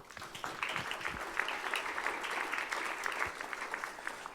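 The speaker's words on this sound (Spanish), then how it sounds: "Fuerte aplauso." Steady crowd applause in a church youth gathering, many hands clapping at once at a fairly even level, a few louder claps standing out, no talk over it.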